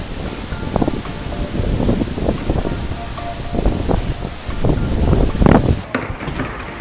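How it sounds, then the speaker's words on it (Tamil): Strong wind roars around a waterfall in Maharashtra, pushing the falling water back upward: a steady, loud rush of gusting air and spray that surges and churns throughout, then cuts off abruptly near the end. "அதிகமான காத்துனால வாட்டர் ஃபால்ஸ் அப்படியே ரிவர்ஸ்ல விழுந்திருந்தது."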